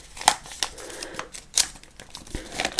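A folded paper prediction is opened by hand, making crisp crinkles and rustles in a close series of sharp bursts and softer scrapes, with no speech.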